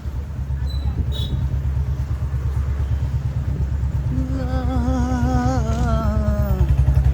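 A Bullet motorcycle engine idling with a steady low thumping rhythm, close and loud; partway through a voice speaks over the running engine.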